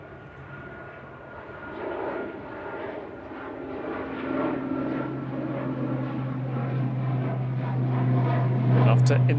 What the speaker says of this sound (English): To Inverness, GLMRD, flight 598 ATR 42.